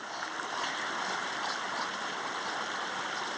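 A natural stream flows steadily in a scenic outdoor spot, its soft continuous rushing and splashing water filling the scene without pause and with no talking.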